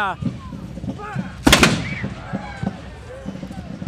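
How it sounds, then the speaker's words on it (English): A loud musket volley cracks once, sharp and close, at an outdoor autumn festival parade, with crowd chatter and voices around it before and after the shot. "muskets. Musket fire, yeah."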